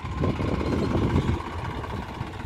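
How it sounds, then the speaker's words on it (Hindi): Tractor engine running on a farm right after starting, a steady close mid-pitched idle chugging with no talking. "ट्रैक्टर स्टार्ट कर लिया है"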